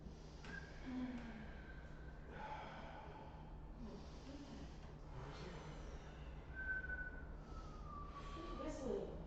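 Breathing during a Pilates session on a Wunda Chair produces a faint, thin whistle, recurring in several short tonal bursts over soft breath noise, quiet and close.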